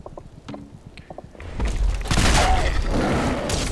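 Gunfire in the video game Fallout 4, a few sharp shots early followed by a loud, sustained burst of booming combat noise.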